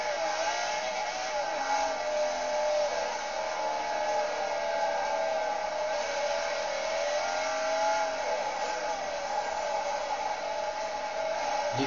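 A Porsche engine in the racing game Forza 4 drones steadily under acceleration, a sustained buzzing whine that rises and falls slightly with the revs throughout, with no voices.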